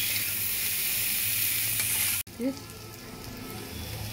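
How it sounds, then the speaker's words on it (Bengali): Cauliflower paratha filling fries in a pan and is stirred. A steady, close sizzle fills the pan, then a brief cut is followed by a spoon clatter and softer continued frying. "যতক্ষণ না এটা ঠিক মতো ভাজা ভাজা হয়ে যাচ্ছে ততক্ষণ এইভাবে নাড়বো।"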